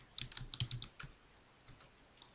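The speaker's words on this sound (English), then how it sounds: "Okay, I just type here" Typing on a computer keyboard while writing a basic Python program in Notepad: a short, quiet burst of several light key clicks, then a few scattered taps fading out.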